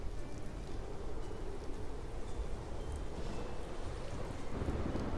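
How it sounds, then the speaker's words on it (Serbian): Wind blowing harder over a river while waves rise, a continuous rough rushing and churning of water and gusts that stays loud and unbroken, with no voices. "Vetar je počeo sve jače da duva, a talasi su bili sve veći"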